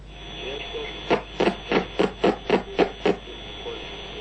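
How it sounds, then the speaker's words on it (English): Eight sharp crackling bursts from electric sparks, picked up as radio interference, arrive in an even, fairly quick rhythm over a steady low hiss and hum, with quieter static before and after. "Each of these sparks is sending out radio waves. You hear them on the radio as interference."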